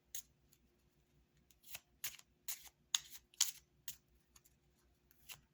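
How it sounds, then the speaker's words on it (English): Quiet, crisp riffling and snapping of Lenormand cards in a handover shuffle, a series of short bursts, irregular and close by. "I believe they just call this the handover shuffle"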